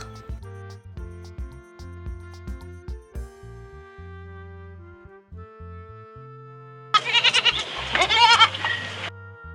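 After a stretch of bouncy instrumental music, a domestic goat lets out a loud, wavering bleat lasting a couple of seconds, close and clear.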